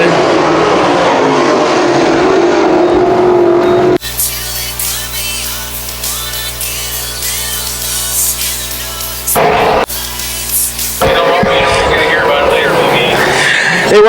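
358 modified race cars roar down the front stretch of a dirt track, a loud continuous engine drone that cuts abruptly between takes, with a race announcer talking over much of it.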